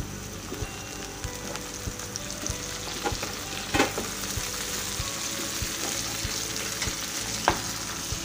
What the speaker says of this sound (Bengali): আমার পেঁয়াজ ভাজা হয়ে গেছে, এখন দিয়ে দিব, এখানে আছে 4টা টমেটো কুচি